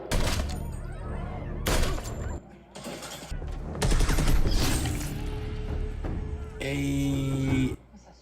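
Gunfire from a scene in the TV show Westworld, loud volleys and bursts mixed with dramatic soundtrack and voices, heard as dense, continuous action audio over about eight seconds.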